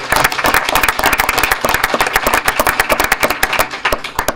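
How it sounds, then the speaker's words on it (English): Loud, close applause at a township board meeting for Officer Moore: a small group claps in sharp, rapid, uneven bursts for a few seconds with no talking over it. "And if we could just give another round of applause"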